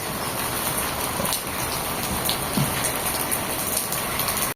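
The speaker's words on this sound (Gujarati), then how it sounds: "એક તો મેહુલીઓ વરસે" Monsoon rain pours steadily outdoors amid green surroundings, a dense, even hiss of drops on surfaces that holds constant and fairly loud throughout, with no voices.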